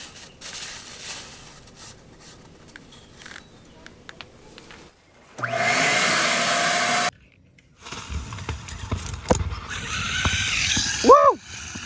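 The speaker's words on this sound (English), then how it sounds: "use a shop vac to suction and pull the pipe and the rope all the way through the" A shop vac sucks a rope through underground conduit, a steady rushing roar lasting about two seconds amid rustling and handling noises, followed by rougher whooshing and a brief rising whine.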